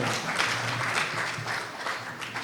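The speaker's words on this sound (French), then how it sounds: "Vous pouvez applaudir, oui, bien sûr." Moderate audience applause follows a talk by a speaker, a loose patter of clapping that holds fairly steady and fades slightly toward the end.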